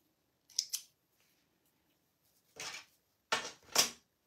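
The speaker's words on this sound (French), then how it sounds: "Donc on peut couper nos petits fils." Scissors snip sewing threads in a quiet room, about five crisp, separate cuts spread over a few seconds with silence between them.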